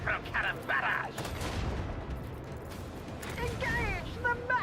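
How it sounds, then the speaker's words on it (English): Macro cannon barrage from the starship combat of the video game Rogue Trader: a rolling fusillade of heavy booming shots that fills the whole clip, with a voice talking over it at the start and end. "Initiate macro cannon barrage."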